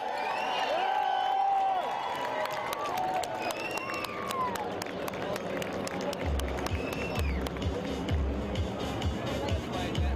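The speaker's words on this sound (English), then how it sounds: "Give him a round of applause." A crowd at the San Diego Loyal jersey reveal party at Stone Brewing applauds and cheers for Landon Donovan, with steady clapping, scattered whoops and whistles, and a low rumble of voices throughout.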